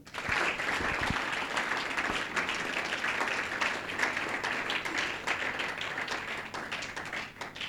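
Church congregation clapping steadily to acclaim the Lord, a dense, sustained wash of many hands filling the room with no voices standing out.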